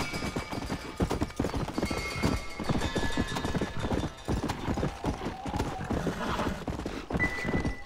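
In the Western video game Red Dead Redemption, a wild horse's hooves clip-clop in a quick, uneven rhythm with a whinny woven in, moderately close and fairly quiet.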